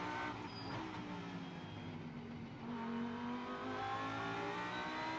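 A GT race car at the FIA GT World Cup in Macau accelerates, its engine pitch rising steadily, dipping at a gear change, then climbing again, heard from onboard at moderate level.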